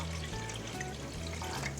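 Water pours steadily into a pot, a close, continuous splashing stream of about one and a half litres running throughout with no speech.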